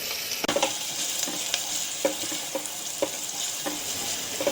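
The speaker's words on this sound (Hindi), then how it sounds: "प्याज को हल्का ब्राउन होने तक भूनेंगे। कड़छी लगातार चलाएंगे।" Finely chopped onions frying over medium heat turn light brown in a pan, a steady sizzle under repeated scrapes and taps from a ladle stirred without stopping, no talk.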